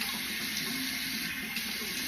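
Cold tap water runs steadily into a sink during a skincare routine, producing a continuous, even rushing splash that stays close and constant throughout, with no one talking.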